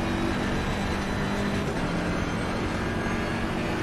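A BMW M6 GT3 race car engine roars loudly and continuously in Assetto Corsa Competizione, a steady, dense drone with no talk over it.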